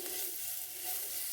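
Garam masala and ground spices sizzle in hot oil while being stirred in a pan for malai kofta, a dense, even, close frying hiss over a short moment with no voices.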